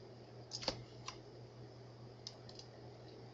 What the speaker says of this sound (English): I'm going to continue on and typing in the rest of the sentence